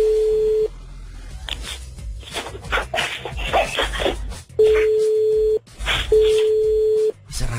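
An unanswered telephone call gives three long, steady ringback tones separated by gaps, with a stretch of muffled talk and background noise between the first and second tones.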